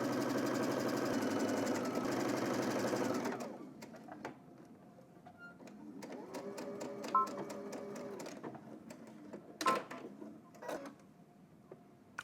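A domestic sewing machine stitches a seam at 5/8 inch allowance, running in a steady buzzing burst for about three seconds before stopping, followed by scattered faint clicks and light handling noises.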